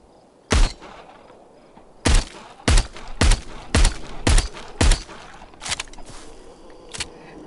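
Gunshots in the VR zombie shooter Arizona Sunshine on PSVR: about ten sharp, loud single shots, irregularly spaced, with a clustered run in the middle and fainter shots toward the end, no talk over them.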